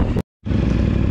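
A CFMOTO 450MT motorcycle rides off-road with a loud, rough engine drone, broken by a brief dropout before the engine noise resumes at full strength.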